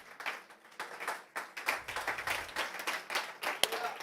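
A church congregation applauds during a service in bursts of close, uneven clapping that keep going and restarting, with a sharp tap near the end.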